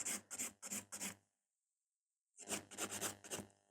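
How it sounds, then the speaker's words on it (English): Coffin-shaped nails filed with a nail file in quick rasping strokes, four rapid passes, a pause of silence, then another run of about six strokes, close and crisp. "This is actually a perfect way to learn how to file the nails."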